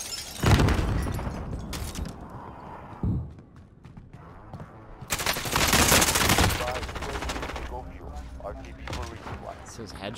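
Bursts of Uzi submachine-gun fire in a Call of Duty Warzone match, loud rapid volleys that come and go across the stretch, with game sounds and voices talking in between.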